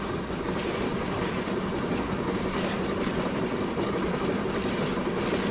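A steam-era train in the Centuries of Steam game rolls along continuously, wheels clattering over rail joints with faint squeals, a steady rumble with no talking.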